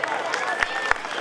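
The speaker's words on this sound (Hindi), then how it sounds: "जोरदार तालियां एक बार।" Applause from an audience at a school ceremony unveiling a statue of Shaheed Bhagat Singh: a dense, steady patter of many hands clapping, with sharper individual claps standing out and a voice or tone sounding over it.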